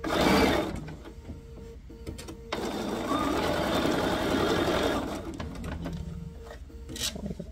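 A sewing machine stitches pinned pieces of a quilt block, its steady motor whir running for several seconds between short pauses and handling noises, with no talk over it.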